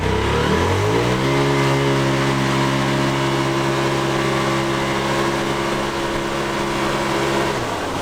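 An off-road buggy's engine revs up sharply within the first second, then holds a loud, steady, close drone at high revs before easing slightly near the end.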